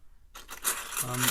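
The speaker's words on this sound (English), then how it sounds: "You want to clean up those holes with some fine files." Fine files clean up two freshly drilled holes in a guitar while an LR Baggs Five-O pickup is being installed. After a short quiet start, a few close, raspy back-and-forth strokes follow in quick succession.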